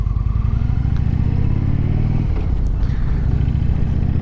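A motorcycle fitted with highway pegs and a GoPro Hero 7 Black, ridden on a cool 11°C day, gives a steady, loud engine drone close by that holds continuously with little variation.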